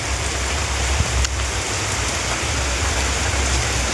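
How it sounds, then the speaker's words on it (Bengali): Heavy rain pours down steadily in the early morning, a loud, dense hiss of drops drumming on surfaces nearby with a few sharper splats, unbroken and without talk. "প্রচুর পরিমাণে বৃষ্টি এসছে"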